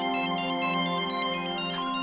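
A phone ringtone plays alone in an indoor home scene from a TV drama, a steady electronic melody repeating in even pulses at a moderate volume for about two seconds.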